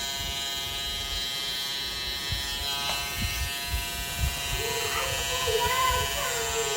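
Electric hair clippers trim a husband's hairline at home, buzzing continuously and close up with a steady, tonal hum, while a low voice murmurs faintly underneath.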